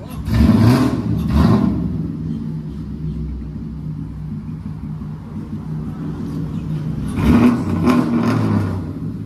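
A BMW M340i fitted with new exhaust tips and a rear diffuser revs twice in loud, deep bursts near the start and again near the end, with a lower rumbling idle between the blips and no talk.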